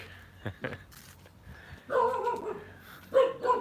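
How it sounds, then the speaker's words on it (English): The neighbor's dogs bark in a Balinese home setting, a few short barks at first and then two louder bursts of barking a little way off, with quiet outdoor ambience between them. "Neighbor's dogs barking."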